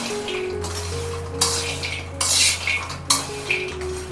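Something dry-roasts in a pan over a low flame, a spatula stirring and scraping in a few loud bursts between quieter stretches of faint crackle.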